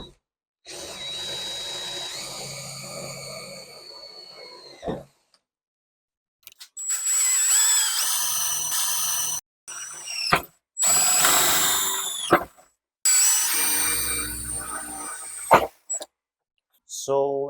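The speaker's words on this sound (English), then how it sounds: "So I'm going to drill carefully." Power drill boring holes for a rear spoiler on a Toyota Celica, running in several sustained bursts of a few seconds each with short pauses between, close and loud.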